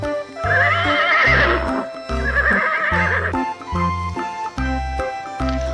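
Two long whinnying neighs ring out over a steady thumping beat with clip-clop hoofbeats, loud and close.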